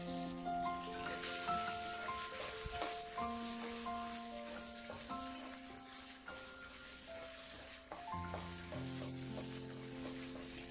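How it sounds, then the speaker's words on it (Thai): Steady sizzling and crackling of yellow tofu frying in hot pork lard in a pan, with occasional stirring and background music playing throughout. "นำเต้าหู้เหลืองนะคะมาทอดค่ะ"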